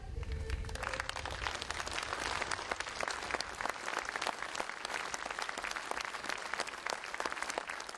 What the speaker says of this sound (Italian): Un applauso sofferto e composto ha salutato Lisa Colazzuola